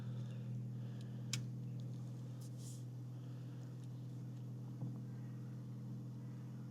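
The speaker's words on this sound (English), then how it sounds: "Let's get the car started. So the car's started" A car engine idles steadily after starting, a low, even hum that holds throughout at moderate distance, with a couple of faint clicks and no talk.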